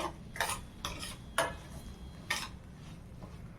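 Salted curry being stirred in a pan, the spoon scraping in several separate bursts over a low steady background, close and fairly quiet.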